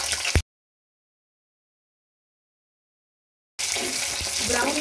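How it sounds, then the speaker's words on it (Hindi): Onions dropped into hot oil for a soyabean chunk gravy sizzle and crackle loudly after a long stretch of silence, a brief burst at the start and then steady frying to the end. "देखिए, हमारा ऑयल ये गर्म हो गया। अब हम इसमें प्याज डालेंगे"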